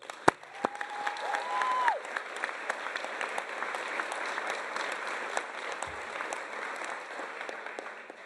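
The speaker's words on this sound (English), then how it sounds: "I want to give a round of applause." An audience at a community college event breaks into steady applause, a dense, even wash of clapping hands that holds for several seconds at moderate volume.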